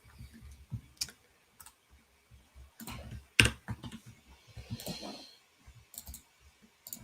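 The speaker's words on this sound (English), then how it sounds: "I'm sure that's really fun listening to me typing away." Keys clatter on a computer keyboard in irregular bursts of clicks, with short pauses and one sharper, louder tap partway through, close by in a quiet room.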